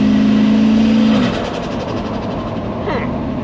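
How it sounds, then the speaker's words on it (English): A Holden 253 V8 engine in a ute with a tightly shimmed limited-slip diff idles loudly with a steady low drone, then drops to a rougher, quieter rumble after about a second; the engine sounds a little off. "It's a weird sounding 253,"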